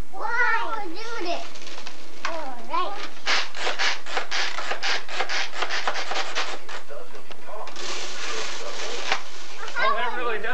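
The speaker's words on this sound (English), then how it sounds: "It's a chainsaw." A toy chainsaw pretending to chop wood gives rapid repeated rasping bursts, pulsing in quick runs then pausing, with talk from children and adults before and after.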